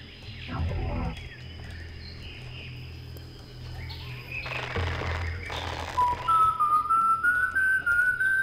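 Sam whistles a rising tune over wild ambient jungle sounds and a rumbling bass burst in Serious Sam Fusion 2017, in the Sierra de Chiapas level, with the whistle clear and close near the end.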